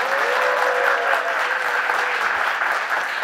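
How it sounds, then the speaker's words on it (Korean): Loud applause from the crowd at a political party's founding convention, a close, dense burst of clapping that holds steady for a few seconds with no talk over it. "김나무 김규리 당원 5분께 수고해달라고 큰 박수 부탁드립니다"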